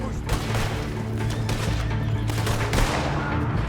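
Dense, continuous gunfire from Red Dead Online, a steady loud barrage of overlapping shots with a heavy low rumble, while players talk over it.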